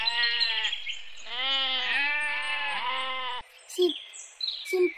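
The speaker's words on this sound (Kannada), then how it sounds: "ಕುರಿ" Sheep bleating in several long, wavering calls one after another, close and loud, followed by a few short knocks and clatters.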